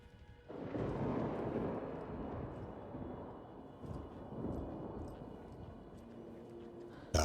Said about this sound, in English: God of Thunder at it again.